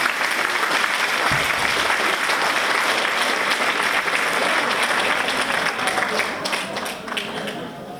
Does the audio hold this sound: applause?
yes